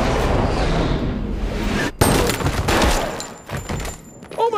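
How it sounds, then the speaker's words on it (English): Gunfire in an action-comedy movie trailer: loud, dense bursts of shots and impacts over a music bed, with a sharp cut and a whooshing effect near the end. "I'm just gonna shoot him in the leg."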